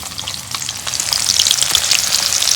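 Chopped onion fries in hot oil in a kadai, a loud dense crackling sizzle that swells as it goes, close and alone.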